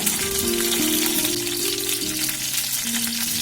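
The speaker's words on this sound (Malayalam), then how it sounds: "എണ്ണ ചൂടായി വരുമ്പോൾ അതിലേക്ക് ചതച്ച വെളുത്തുള്ളി ഇടുക, വറ്റൽമുളക് ഇടുക" Crushed garlic and dried red chillies frying in a pan of hot oil, a steady close sizzle and crackle that runs throughout with no one speaking.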